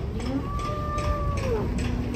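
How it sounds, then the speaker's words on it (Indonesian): A stressed cow, just unloaded from a truck, lets out a long, loud, wavering moo that carries through the whole moment, with steady outdoor noise behind it. "Sapi ini mulai stres."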